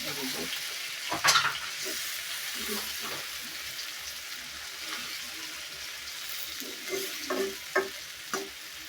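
Lentil fritters sizzle softly in a pan of hot oil, a steady close frying hiss broken by a few light clinks and scrapes as they are turned.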